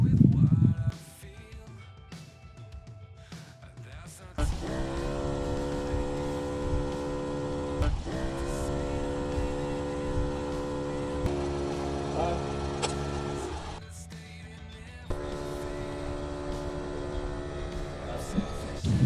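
Bushranger Max Air III portable compressor inflating car tyres, a steady droning motor hum that runs on for long stretches and briefly drops out, fairly loud and close with no talk over it.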